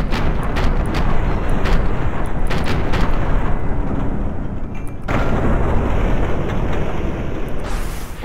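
Dense, continuous bursts of gunfire crackle in the People's Playground video game, loud and rapid with no clear gaps, forming a roaring barrage with a brief break midway.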